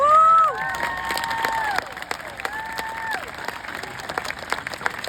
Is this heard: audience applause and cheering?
yes